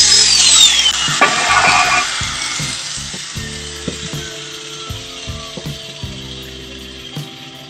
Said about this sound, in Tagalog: Gamit po tayo ng grinder.